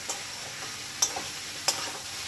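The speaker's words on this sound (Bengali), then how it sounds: "এবার সমস্ত মশলাগুলো ভালো করে কষিয়ে নেবে" Spices for a Bengali Malabar spinach dish with katla fish head being stirred and fried in a pan, a steady soft sizzle broken by a few sharp scraping clicks of the spatula, close and alone with no voices.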